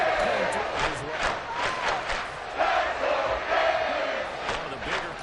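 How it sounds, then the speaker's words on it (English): A stadium crowd at a Raiders versus Dolphins American football game roars and cheers ahead of a big third down, a dense sustained wall of voices with swelling shouts, loud and without separate speech. "the crowd getting into it as we come up on a big 3rd down"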